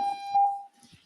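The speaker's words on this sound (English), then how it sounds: "We stopped the beeping." An alarm beeping in a lecture room during a masterclass: a steady electronic tone that pulses and swells, then cuts out, followed by faint room noise.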